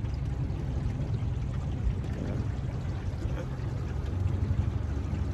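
Motorboat on a lake during a fishing trip for Sacramento perch. A steady, close low engine drone runs continuously with a hiss of water over it, holding an even loudness throughout.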